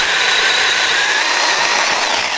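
A small battery-powered saw used for tree trimming runs steadily and loudly, a continuous high-pitched whine with a buzzing edge and no pauses.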